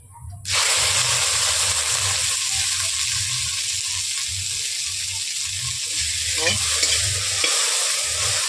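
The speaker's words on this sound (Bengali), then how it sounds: "আমি ভেন্ডিগুলো দিয়ে দিয়েছি কড়াইয়ের মধ্যে, তেল দিয়ে এগুলোকে হালকা করে আমি ভেজে নেব।" Okra hits hot oil in a wok and bursts into a loud, sudden sizzle that holds as a steady, close frying hiss with occasional stirring scrapes.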